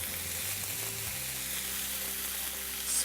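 Mushrooms sizzle and fry in a pan with tomato and apple slices, a steady hiss running evenly throughout, close and alone without any talking.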